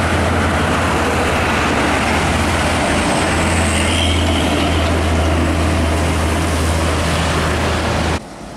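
A Nissan Diesel trailer truck rolls past with a loud, steady diesel rumble and broad road roar that holds close for several seconds before cutting off abruptly.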